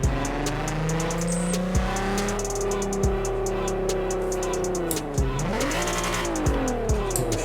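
A loud MK4 Golf R32 engine in Forza Horizon 4 revs hard through repeated gear shifts, its pitch climbing and dropping at each change, with tire noise and brief squeals, close and continuous throughout.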